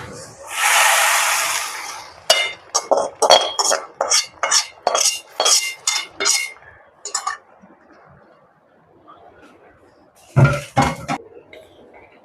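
A utensil scrapes and clinks rhythmically against a pot while sambar is stirred, preceded by a brief hiss. A quick run of repeated metallic knocks is followed by a pause and a second short burst.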